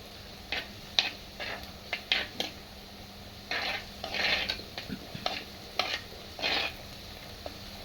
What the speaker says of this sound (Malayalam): നമ്മുടെ സവോള ഇവിടെ നന്നായിട്ട് വഴണ്ട് വന്നിട്ടുണ്ട്